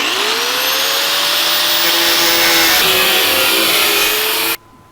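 A high-pitched tool cuts rivet heads off the rear frame of a 1949 Chevrolet gasser with a loud, steady whine that shifts pitch under load, then stops abruptly near the end.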